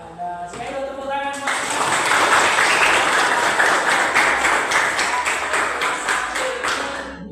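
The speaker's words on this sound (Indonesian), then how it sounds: "sekali lagi tepuk tangan" Classroom group applause from students in an Islamic jurisprudence lesson on shortened and combined prayers, a dense steady wash of many hands clapping for about seven seconds, fairly close, with a few voices mixed in at the start.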